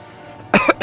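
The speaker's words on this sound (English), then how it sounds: "So please ignore the coughing." A person coughs twice in quick succession, a sharp close burst followed by a shorter second one, loud and alone after a near-silent moment.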